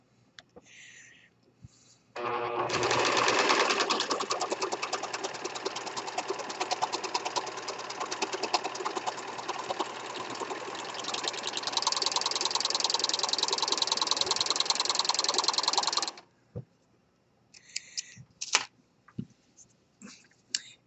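A serger stitching fabric, a loud steady rapid mechanical whirring chatter running for about fourteen seconds, with short clicks before and after.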